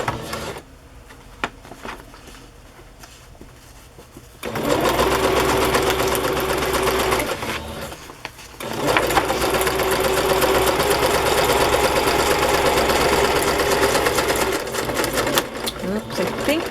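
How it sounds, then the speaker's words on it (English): Sewing machine stitching along the join of journal pages, a steady fast whirring chatter that starts after a quieter stretch, pauses briefly, then resumes, close and loud. "I'm just going to sew this here, right along where the pages meet."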